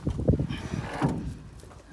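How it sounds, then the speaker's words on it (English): Bonnet of a Mercedes-Benz R107 380SL being released and lifted, a few close mechanical clunks and rattles of the latch and panel, followed by a quieter scraping tail. "Alright, so let's get the bonnet open."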